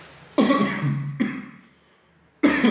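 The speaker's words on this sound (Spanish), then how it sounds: "Perdóname la tosedera, usted entenderá" A man coughs three times in quick, harsh, close bursts during a church sermon, each cough dropping into near silence before the next.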